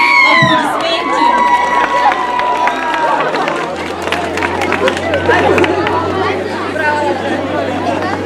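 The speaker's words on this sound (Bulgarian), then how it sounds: "Аплодисменти!" Students and audience at a school graduation send-off cheering, shouting and clapping in a loud, busy crowd roar that continues throughout, with voices calling out over it.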